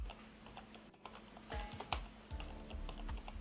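Keys clatter on a computer keyboard in quick irregular bursts of close, crisp taps, fairly quiet, with no talking.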